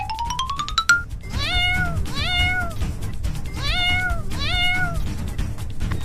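A cartoon kitten meows four times in a row, clear and close, over a low background rumble, after a short rising chime at the start.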